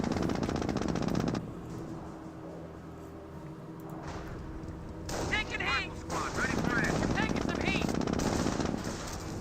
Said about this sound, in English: Jeep is getting shot to hell here.